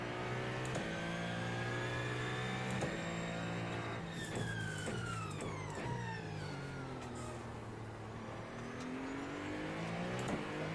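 Sim race cars in iRacing or Le Mans Ultimate, including LMP2 prototypes and a Cadillac, roar steadily at speed with engine notes rising and falling as cars pass, a continuous layered whine with no talk.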